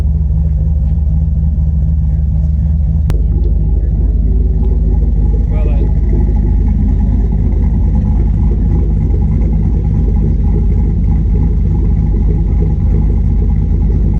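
A turbocharged Chevrolet C10 truck with a new exhaust rumbles heavily from inside the quiet cab, a deep steady engine drone with a brief rev swell, while someone talks over it.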